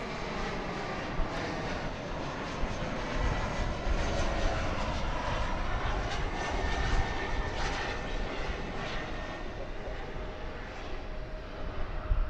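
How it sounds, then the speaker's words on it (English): An American Eagle passenger plane, Flight 3885 from Corpus Christi, arrives at DFW Airport in Texas, its engines a sustained, fairly distant roar that holds steady for several seconds with no talk. "Here comes American Eagle Flight 3885 from Corpus Christi"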